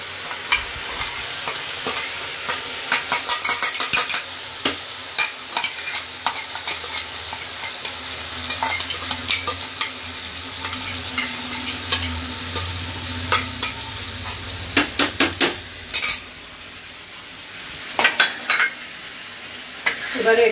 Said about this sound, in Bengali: এবারে এটাকে নাড়তে থাকবো।